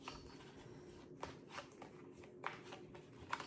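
A deck of tarot cards being shuffled by hand, a rapid run of soft riffling flutters and light taps close by, with no talk.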